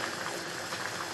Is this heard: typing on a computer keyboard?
no